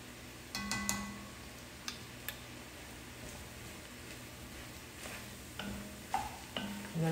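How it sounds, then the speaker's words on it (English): Mushrooms sautéing in a pan for a chicken and wild rice soup, giving a quiet, steady low sizzle with a few light clicks and stirring taps scattered through, with no one talking. "I'm just going to let this saute now until the mushrooms get really tender"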